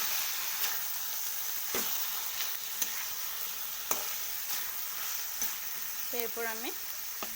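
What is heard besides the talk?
stirring spinach posto frying in mustard oil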